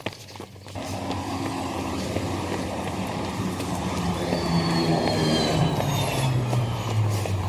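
A Monroe number 25 city bus rumbles past at close range, its broad engine roar and road noise building steadily over several seconds with a rising whine, no voices over it.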